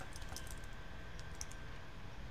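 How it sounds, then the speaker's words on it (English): Typing on a computer keyboard during an online drawing game, with a scatter of faint light key clicks over steady background hiss and no talk. "No, I'm typing."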